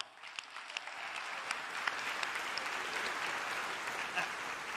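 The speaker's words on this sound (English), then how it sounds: "Let's give him a round of applause." A short burst of steady applause, fairly faint and even, lasting a few seconds without voices over it.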